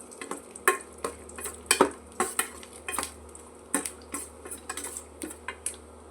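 Tempering spices splutter and crackle in hot oil for a village-style moong dal and beetroot kootu, with light clinks and scrapes of a spoon stirring now and then against the pan.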